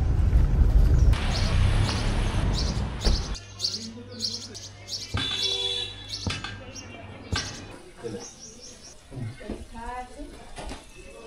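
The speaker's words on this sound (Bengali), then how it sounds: "পাখির আওয়াজ শুনতে পাচ্ছ?" Wild birds chirp and call along a hill road on the way to Yamunotri near Barkot. Short bright calls repeat intermittently over rumbling background noise.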